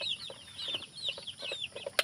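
Backyard farm chickens, including a mother hen, clucking in short repeated bursts with a few higher chirps, moderately close and with no talking.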